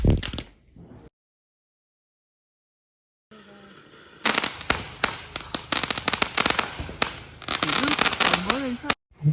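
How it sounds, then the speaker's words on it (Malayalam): Firecrackers set off for the Vishu festival burst in rapid, loud cracks and pops, clustered in dense volleys after a short silence, with people talking between and over the blasts. "നമുക്ക് തലേദിവസം വിഷുവിന്റെ പടക്കങ്ങളൊക്കെ പൊട്ടിക്കാം"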